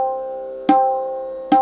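Two sharp tabla strokes on the tin area, played with the index finger alone, each a bright ringing attack that sustains with a clear pitched tone and slowly fades, spaced under a second apart and heard alone.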